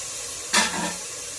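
Green chillies and tomatoes drop into hot oil with frying masala for a brinjal-tomato curry, setting off a sudden loud sizzle that quickly settles into a softer, steady hiss.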